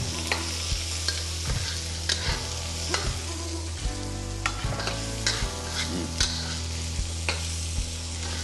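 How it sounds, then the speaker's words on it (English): Onion frying in a hot wok, with a steady, close sizzle of oil under repeated rhythmic scrapes and knocks as the pieces are stirred and tossed. "Okay, the wok is hot. I'm gonna start with onion."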